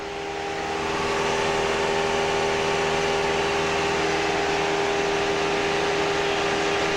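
An aircraft engine runs at about 2,400 RPM in flight, a steady, loud drone with a constant tonal hum that swells in over the first second and then holds evenly throughout.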